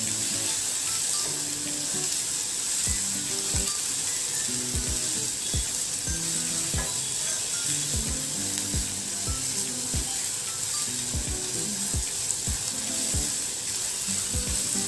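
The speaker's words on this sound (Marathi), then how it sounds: "तेलामध्ये अगदी छान परतून घेणार आहोत." Ingredients sizzle steadily in hot oil, a constant close crackle broken by soft scraping taps of a spatula stirring the pan.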